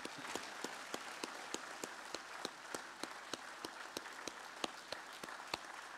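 A church general assembly audience gives a standing ovation, clapping together in a regular rhythm of sharp claps, moderately distant and fairly quiet, with a faint crowd murmur.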